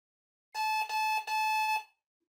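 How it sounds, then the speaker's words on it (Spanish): Morse code letter O keyed as three long steady tones in a row, a clear bright beep with short gaps between, loud and close against silence. "una letra eh, eh, suena fuerte, es da, da, da"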